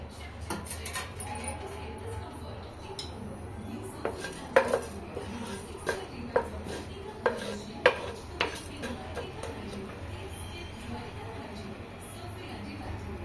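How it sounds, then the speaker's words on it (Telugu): Mustard, cumin and coriander seeds frying in hot oil for an onion chutney, a low crackle under someone speaking, with several sharp metal clinks and scrapes of a spoon against the pan. "ఆవాలు జీలకర్ర ధనియాలు ఇలా వేయించుకోవాలి ఆయిల్లో బాగా"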